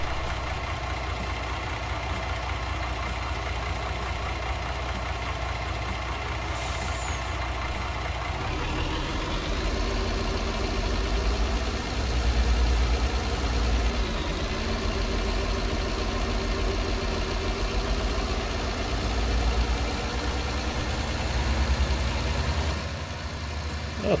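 A tractor engine in the farming video game Landwirtschafts-Simulator 19 drones steadily while driving, a continuous mid-pitched rumble that shifts slightly in pitch partway through and stays fairly loud throughout.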